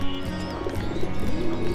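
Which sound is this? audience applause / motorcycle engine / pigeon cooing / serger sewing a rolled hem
pigeon cooing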